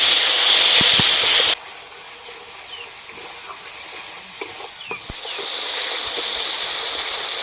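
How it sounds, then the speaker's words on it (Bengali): Spice paste sizzling and frying in a pan for a vegetarian soybean dish, a steady hiss that starts loud, drops to a quieter crackle with small pops, then swells again. "এবার মশলাটা খুব ভালো করে কষে নেব।"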